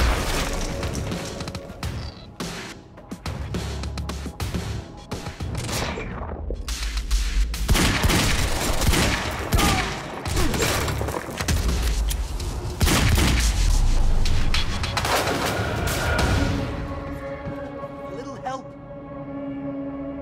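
Heavy gunfire in the Quantum Break game during a library chase, dense bursts of shots, booms and crashes filling the whole stretch, loud and close, with voices talking underneath.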